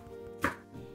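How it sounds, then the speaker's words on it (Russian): A knife chops fresh cilantro on a board, cutting the herb into pieces of about 2-3 cm: one sharp, fairly close chop stands out against a quiet kitchen background. "Режу кинзу длиной примерно 2-3 см."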